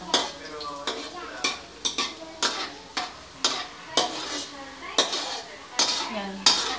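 Garlic sautés in a pan until golden brown while a utensil scrapes and stirs in a steady rhythm of sharp metallic strokes, roughly one every second, over a soft sizzle.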